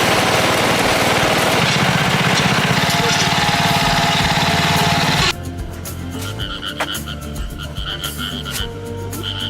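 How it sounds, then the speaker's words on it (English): Igusa rush harvester cutting stems in a field, a loud buzzing engine drone with rattling that drops to a lower, rougher running sound partway through. "The harvesting of Igusa is now carried out using specialized machinery designed to cut the Igusa stems evenly and gently"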